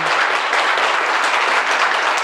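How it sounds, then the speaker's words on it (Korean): A live audience applauds the staff at a community welfare centre book concert: dense, even clapping from many hands that fills the whole stretch at steady volume, with no voice over it. "예, 박수로만 하세요."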